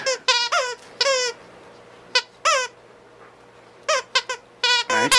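Repeated high squeaks from a squeaky dragon pet toy come in short bursts and quick pairs, fairly close, separated by quiet gaps, with a louder cluster near the end.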